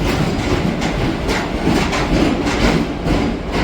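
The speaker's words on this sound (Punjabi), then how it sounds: "ਇਹ ਹੈ ਚੰਡੀਗੜ੍ਹ ਐਕਸਪ੍ਰੈਸ ਲਖਨਊ ਚੰਡੀਗੜ੍ਹ ਪ੍ਰਗਰਾਜ ਤੋਂ ਆਈ ਆ" The Chandigarh Express rolls into Ambala Cantt station with a steady, loud rumble and rhythmic clickety-clack of wheels over rail joints, heard close by with no talking.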